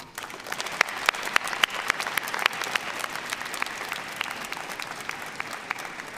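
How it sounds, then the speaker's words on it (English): Graduates at a South Central College commencement ceremony clap for their friends and family, a steady hall-wide applause with distinct sharp hand claps standing out in the first seconds, then settling into an even wash. "join me in clapping for your friends and family that are sitting around here"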